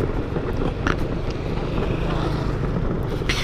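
A scooter with a thin, narrow-diameter wheel is ridden on the road, its engine droning steadily over constant rushing wind and road noise. No one speaks.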